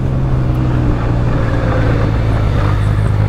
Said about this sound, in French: son petit moteur qui rugit